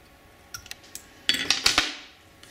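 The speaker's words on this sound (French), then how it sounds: "Je vais couper mon fil." Scissors snipping tying thread at a fly-tying bench while making squirrel dubbing, a few small metallic clicks followed by a brief burst of close snips.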